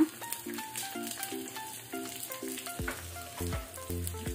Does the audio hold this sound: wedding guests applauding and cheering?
no